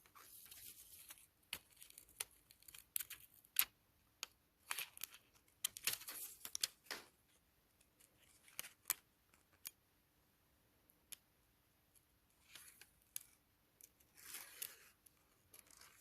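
Scissors snip an egg shape out of tracing paper for a leather appliqué on an Easter chick stitching project, with a sequence of quiet, irregular close snips and paper rustles separated by short pauses.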